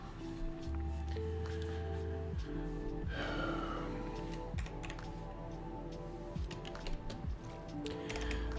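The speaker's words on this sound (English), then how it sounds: "I don't mind having the keyboard sounds on the audio." Computer keyboard typing during a coworking stream, with intermittent soft key clicks over a steady background hum and occasional faint breathing noises.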